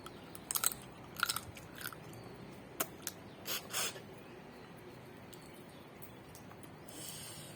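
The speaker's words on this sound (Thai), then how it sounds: "แล้วเอาขึ้นมากัด" Biting and chewing on Thai som tam papaya salad, heard as a few close crunchy bites early on, then a handful of softer chewing sounds in a quiet room with no talking.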